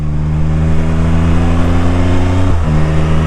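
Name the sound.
Can-Am Spyder F3 Limited downshift and engine revving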